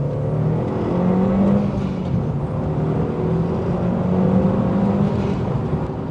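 An Audi TT accelerating hard in second gear, a steady rising engine drone heard from inside the car, fairly loud and unbroken.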